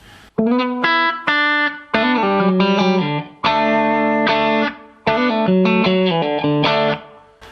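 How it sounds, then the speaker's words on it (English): An electric guitar through only a compressor and a bit of reverb, with the pickup selector in position 4, plays clean, compressed chords and arpeggios in bursts with short pauses, a light reverb tail ringing after each phrase. "This is just compressor and a bit of reverb."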